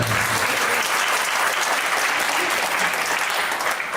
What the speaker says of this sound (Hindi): एक बार माँ के लिए आप ताली दो, जोरदार ताली।